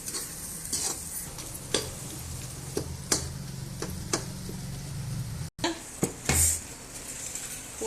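Chicken and masala for a Pondicherry-style chicken gravy sauté in a pan with a steady sizzle, while a spoon scrapes and clinks against the metal in repeated strokes, close and clear, with a short break near the end.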